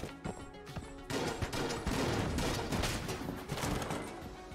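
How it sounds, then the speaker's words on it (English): Void Shotgun blasts in Enter the Gungeon, a rapid string of punchy shots layered with dense game effects and impacts, loud and continuous after a brief softer opening. "And I guess now we can use the Void Shotgun instead of Luxon Cannon."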